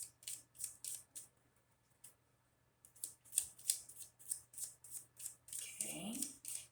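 A deck of tarot cards being shuffled close up makes soft, quick, rhythmic riffling bursts, with a short pause before the shuffling resumes and grows denser.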